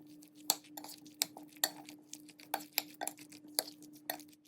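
A spoon clinks repeatedly against a bowl in irregular taps while stirring a chicken mixture with black pepper and semolina, with soft scraping between strikes, close and fairly quiet.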